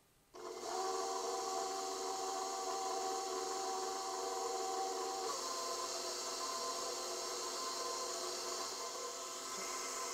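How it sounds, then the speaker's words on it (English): Stand mixer beating rice pie batter with Italian cream and cheese in the bowl: the motor starts with a jump and then holds a steady, even whir with a faint hum, close by, with no talking throughout. "I'm just going to turn this machine on and start it mixing"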